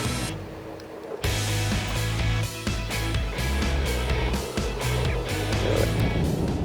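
Inside an underground parking garage beneath Chongqing skyscrapers, a car drives on with a loud, echoing hum and rolling noise that swells and shifts continuously.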